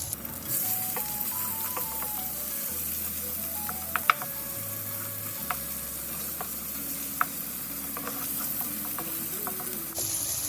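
Ginger and garlic sauté in a little oil in the same pan used to fry chicken, giving a faint, steady sizzle with a few scattered clicks.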